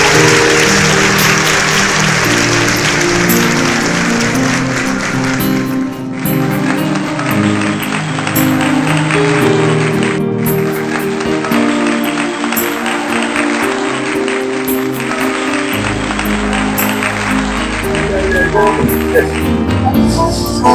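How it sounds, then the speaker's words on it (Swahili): A church congregation cheers, claps and ululates loudly and continuously over music, a dense crowd roar that fills the room for the whole stretch. "Watu wa Yesu vigelegele."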